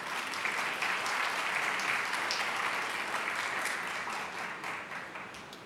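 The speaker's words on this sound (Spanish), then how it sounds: "Un aplauso para don Óscar." An audience at a national science, technology and society congress gives sustained, dense applause, steady and full at first, then gradually thinning and fading toward the end.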